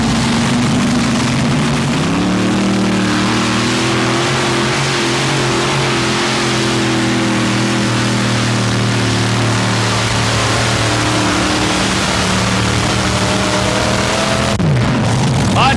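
A loud, steady roar of a five-engine, alcohol-fueled pulling tractor at high revs, a deep droning blend with rising tones, cutting off abruptly near the end.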